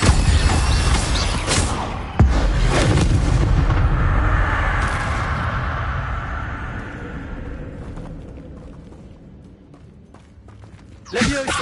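Incendio fire spell in Hogwarts Legacy, a loud explosive blast with a sharp crack, then a roaring, whooshing fiery burst that fades over several seconds before another sharp hit. Someone speaks during the clip.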